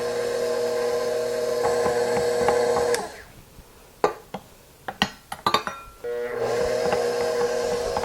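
Electric stand mixer beating Christmas cookie dough as flour goes in a cup at a time: a loud steady motor whir, a pause filled with several sharp clinks and knocks, then the motor running again.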